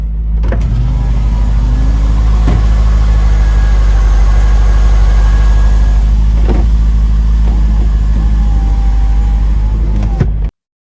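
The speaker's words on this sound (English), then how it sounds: "Listen to it rumble. Can you hear it?" The V8 engine of a 1998 Corvette C5 rumbles deep and loud at idle for about ten seconds, with a few faint clicks and a short whine partway through, then cuts off.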